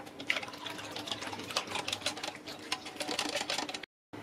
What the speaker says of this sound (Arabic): دابا غادي نضيف الحليب اللي بقى ليا، نحرك مره اخرى مزيان